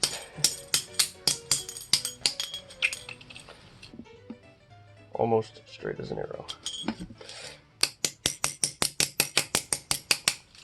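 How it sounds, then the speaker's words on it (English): Rapid, sharp metallic clanks of metal being beaten with channel-lock pliers in steady bursts, straightening a mower wheel part, with a brief spoken remark in the middle. "You can usually straighten it out by taking it and beating it with channel locks."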